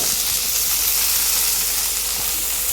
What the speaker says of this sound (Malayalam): ഇഞ്ചിയും വെളുത്തുള്ളി ഇച്ചിരി മൂത്ത് വരുമ്പോൾ നമുക്ക് സവാള ഇട്ടാൽ മതി